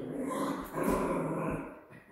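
A dog growls low and rough during a socialization lesson, the growl swelling midway and then trailing off, close and fairly loud with no talking over it.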